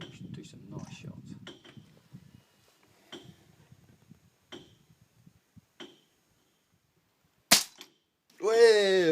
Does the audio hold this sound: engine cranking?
no